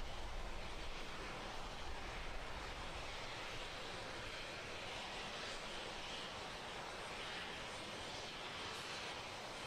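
Falcon 9 first stage with nine Merlin engines firing during ascent, heard as a steady, distant broadband roar like wind, with no talk, continuous throughout.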